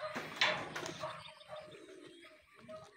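Racing pigeons coo softly at the loft on a dark day, several low throaty coos repeating in short phrases, fairly faint with light background rustle and a few chirps.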